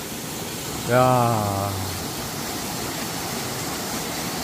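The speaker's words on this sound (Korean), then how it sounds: "폭포 있는데 오니까 시원하고 좋습니다" A powerful waterfall deep in a mountain forest, a steady close rushing roar that fills the whole stretch; a man gives a brief exclamation near the start.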